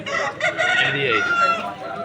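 A rooster crows at a busy chicken market in Vijayawada, one near, drawn-out call cutting through the surrounding noise.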